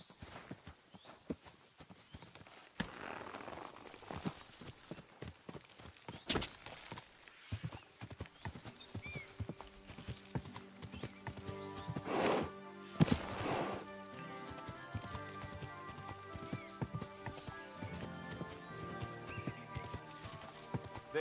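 Horse hooves clip-clop on the ground in a medieval video game, a steady rhythmic gait heard alone at moderate volume, with a brief bright shimmer near the start and a couple of louder thuds partway through.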